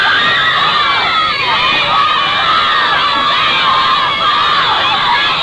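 Huge crowd of screaming, cheering fans on a band's Australian tour, a dense, loud, continuous wall of high-pitched shrieks and cheers with no pauses.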